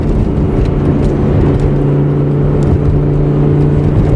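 A car accelerates hard to overtake a bus, its engine holding a loud, steady, rising drone close by throughout with road noise beneath and no talk.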